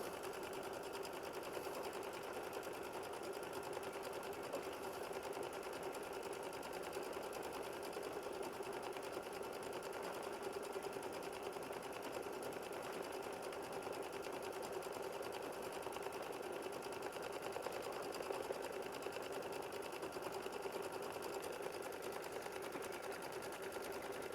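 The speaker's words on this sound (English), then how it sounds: "And there are 28 steps, machine stitch steps." An embroidery machine stitches a flower bouquet quilt block with a steady, continuous rapid whirring and needle chatter, even and unbroken throughout at a low, moderate level with no voices.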